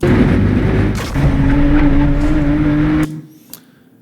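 A loud BMW M3 engine on a track roars, drops briefly as a gear changes, roars again and then cuts off abruptly, followed by a faint tail.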